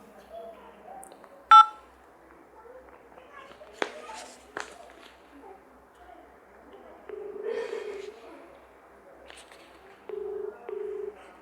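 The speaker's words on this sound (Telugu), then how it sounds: "మన అలివేలు చెల్లమ్మకు ఫోన్ చేస్తున్నాం ఒకసారి." A mobile phone call being dialed. Scattered clicks and taps come first, then two separate bursts of steady keypad-style tones, all quiet against a near-silent room with faint voices.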